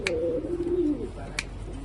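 A pigeon gives a low, throaty coo, with a couple of sharp clicks and soft background noise around it.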